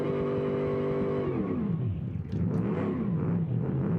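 A Barracuda car in a driving video game roars steadily, then its engine pitch drops and wavers up and down as it shifts, close and alone with no talk.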